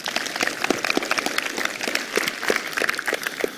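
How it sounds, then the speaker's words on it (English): A small audience at a Raspberry Pi with Java 8 talk claps for a participant, light uneven applause at a modest level, fairly close and steady throughout. "Give him a round of applause"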